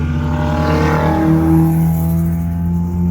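A drag racing car engine roars steadily at high revs on a 402 m strip, its low droning tone rising and holding with a rough buzz, close and loud throughout.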